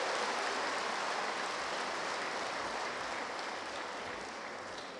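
An audience at a Brahma Kumaris valedictory session claps loudly and steadily in a dense, continuous wash of applause that eases slightly toward the end, with no voices over it.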